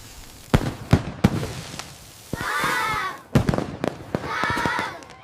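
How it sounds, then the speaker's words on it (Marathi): Diwali firecrackers burst in a village during the festival night, with several sharp, loud bangs followed by bursts of crackling and fizzing, some close and some trailing off. "चला आता फटाके फोडूया"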